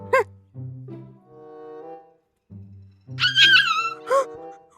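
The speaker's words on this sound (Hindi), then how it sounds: "वो कुत्ते हैं।" Dogs bark and yip in short bursts, a few sharp barks and drawn-out whining yelps, close by and loud against otherwise quiet surroundings.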